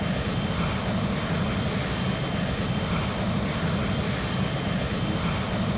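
Steady airplane engine drone from a fast aircraft cruising on a long flight in a flight simulator game, a continuous broadband roar with no break.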